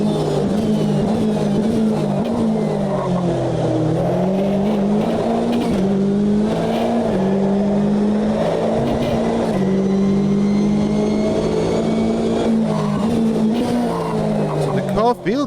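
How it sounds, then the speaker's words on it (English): GTE race car in a sim racing game, engine droning loud and close with pitch rising and falling through gear changes, buzzy ABS chatter and tire scrub under hard braking, with a voice talking over it throughout. "at least you hear the ABS and can feel it to some extent"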